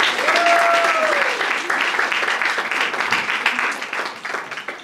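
A church congregation applauds in a steady, dense wash of clapping that stays loud for several seconds, then slowly thins. A voice briefly rises over the crowd.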